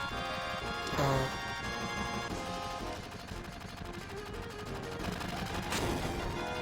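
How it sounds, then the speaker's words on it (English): Bursts of gunfire and crashing impacts in Final Fantasy VII over a steady musical backdrop, with a couple of louder blasts standing out. "Gunfire?"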